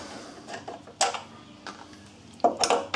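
A bolt is worked out of the lock carrier on a Volkswagen Jetta: quiet, sparse metallic clicks and clunks scattered through the clip, with a sharper clatter near the end and no speech.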